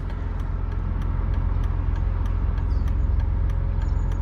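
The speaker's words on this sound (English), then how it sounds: "It's one of these cars now that you can have a lot of fun with the noise, with the feel, the revs, the gear changes" BMW E46 M3 engine during low-speed town driving, a steady low rumble inside the car with a faint regular ticking, no talking.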